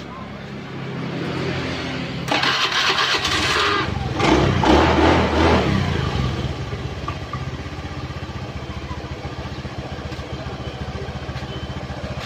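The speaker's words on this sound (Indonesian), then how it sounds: "Jadi sekarang coba kita hidupkan motornya." Honda Beat FI motorcycle engine after an ECU and regulator short being started, cranking then catching into a loud rev that settles to a steady close idle, with background voices.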